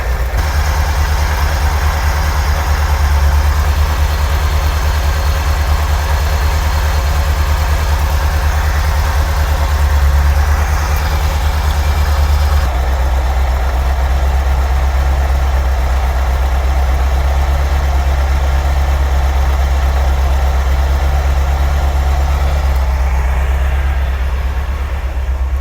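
A Ferrari 308 engine idles roughly and struggles to hold steady, with a loud, continuous low rumble and a slight change in tone partway through.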